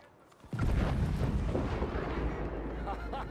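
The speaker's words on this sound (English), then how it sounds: "That's a big explosion." A large explosion goes off in the video game Red Dead Redemption 2, a sudden deep boom followed by a long rumbling roar that slowly fades, with game voices around it.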